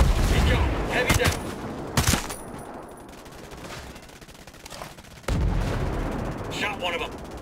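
Bursts of gunfire in Call of Duty Modern Warfare 2, with loud sharp reports at intervals followed by a sustained rumbling barrage and another rattling burst of shots near the end.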